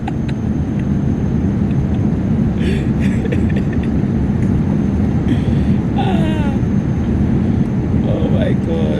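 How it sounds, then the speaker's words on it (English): Steady, loud low-frequency roar of jet engines fills the cabin of an Ethiopian Airlines flight, while scattered voices and occasional small clicks sound over the drone. "So I am on Ethiopian Airlines."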